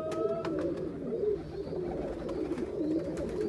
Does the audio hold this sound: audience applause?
no